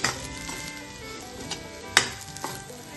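Diced potatoes and crushed peanuts for sabudana khichdi sauté in a pan with a quiet, steady sizzle, punctuated by a few sharp scrapes and clinks of the stirring spoon.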